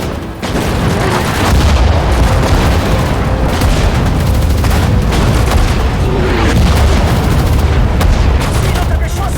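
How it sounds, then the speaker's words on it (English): A destroyer in Sudden Strike 4 fires its guns in a dense, loud barrage of booms and blasts layered over battle noise, with brief voice snippets mixed in. "destroyer is ready to fire"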